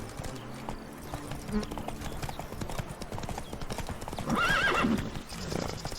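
Horse hooves clip-clop steadily while riding in The Witcher 3, with a close, loud whinny rising near the end over continuous ambient game sound.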